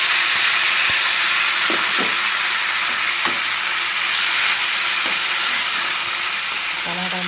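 Tomato pieces frying in oil in a pan, a loud continuous hissing sizzle throughout with faint intermittent stirring clicks underneath, close and steady.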